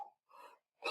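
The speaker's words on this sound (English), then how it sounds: "I gotta sneeze." A person sneezing indoors, heard close but fairly quiet as a few short breathy bursts in under a second, with the final burst the sharpest and loudest.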